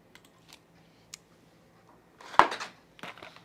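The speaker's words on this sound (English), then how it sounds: "That's not enough typing." Sparse, quiet key taps on a computer keyboard, then a brief cluster of faster, louder clicks near the end, with no talk over them.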